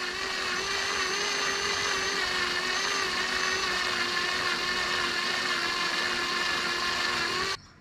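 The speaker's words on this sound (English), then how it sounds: "The acrylic is melting around the drill." A power drill whines steadily at high speed for several seconds, boring through acrylic for battery bus bar covers, close and loud, then cuts off abruptly at the end.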